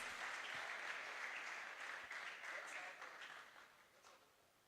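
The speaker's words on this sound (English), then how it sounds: "A round of applause for all the winners" Audience applause for award winners at an International Youth Day event, a dense crowd clapping heard from a distance, fairly faint and slowly tapering off over a few seconds.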